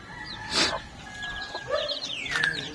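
Backyard chickens clucking nearby, with high peeping calls from decal white chicks mixed in, all fairly close and unaccompanied by talk.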